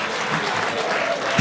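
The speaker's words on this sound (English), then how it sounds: "Some of you are clapping" An audience at a standup comedy club show on Broadway claps in a steady, dense round of applause that swells slightly at the end.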